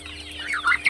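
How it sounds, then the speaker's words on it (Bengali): Farm chickens and ducks clucking as they eat feed, short close clucks building to a few louder squawk-like calls near the end, with no talking. "হাঁস মুরগি সবগুলো খাবারগুলো খাচ্ছে"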